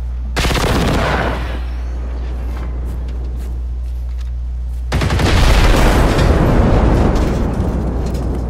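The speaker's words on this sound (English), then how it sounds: "Very nice explosion. Would explode again." Two heavy booming blasts in the video game Generation Zero, the second louder with a long crackling, rumbling tail; dense low rumble throughout, no talk.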